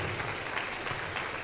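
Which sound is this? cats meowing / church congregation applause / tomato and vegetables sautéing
church congregation applause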